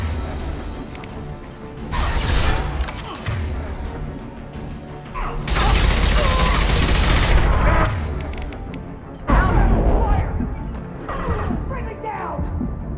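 A Mass Effect firefight with heavy bursts of gunfire and booming impacts in several loud waves, separated by quieter stretches of rattling and debris, while a voice speaks in between.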